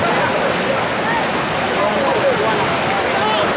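Floodwater from a downpour in Boya rushes and churns like a waterfall, a loud, steady roar of turbulent water filling the whole stretch without pause.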